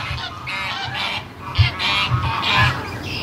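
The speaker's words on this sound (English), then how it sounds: "Oh, the geese are just losing it." Geese honk loudly and repeatedly in a noisy, overlapping chorus, several birds calling close by in quick bursts.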